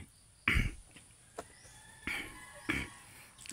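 A person nearby coughs three separate times, each a short harsh burst with quiet gaps between, in an otherwise still room.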